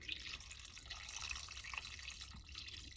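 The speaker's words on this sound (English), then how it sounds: "I'm gonna add a little bit more water, but I just want the water to ever so slightly cover the rinds." Water being poured into a pot over fruit rinds, a faint trickling and dripping splash at low level that runs steadily for three seconds with no talk.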